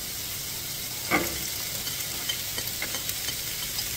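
Onion and garlic frying in a pan for chicken pastil, a loud continuous sizzle close up with a few small stirring clicks and scrapes on top, no one talking.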